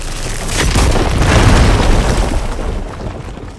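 A deep booming explosion in the video game Horizon swells over about a second and then rolls away into a fading rumble.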